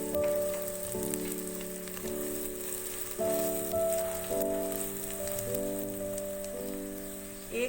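Nigella, fenugreek and mustard seeds sizzle and crackle in hot oil, a dense rain-like frying hiss running steadily throughout, close and fairly loud, while tonal music plays underneath.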